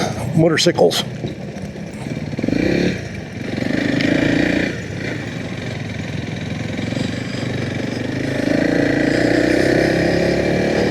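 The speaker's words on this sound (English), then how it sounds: "Trying to ride motorcycles." Motorcycle engines idle and rumble nearby, with a steady drone that swells slightly toward the end; people talk over it.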